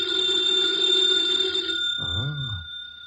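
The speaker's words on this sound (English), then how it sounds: "Should never ignore a phone call." Amid a radio drama, a telephone rings with a steady, bright bell tone that holds for about two seconds and then cuts off, followed by a brief low sliding sound, fairly loud and close, with no one speaking.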